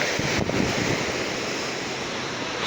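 Surf at Mangamaripeta beach in Visakhapatnam roars continuously and loudly, mixed with rushing wind buffeting the microphone, with no voices over it.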